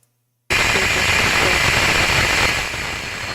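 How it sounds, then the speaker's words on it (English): Rocket Lab Electron Rutherford engine's electric motor and pump impeller spooling up at launch: a loud, abrupt broadband roar and hiss bursts in after a half-second of silence, then holds steady and eases slightly toward the end. "That's the sound of the electric motor spooling and the impeller spooling up."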